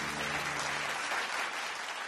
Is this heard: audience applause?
yes